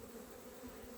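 A steady, faint, continuous buzz of bees near a beekeeper's hive, with no talking.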